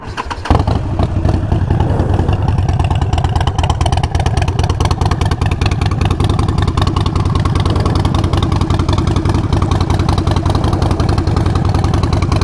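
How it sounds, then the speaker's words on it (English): A Harley-Davidson Nightster 1200 motorcycle idles with a loud, steady low rumble, its lumpy uneven firing pulses thumping close by without pause for the whole stretch. "Watch the engine rumble as it goes."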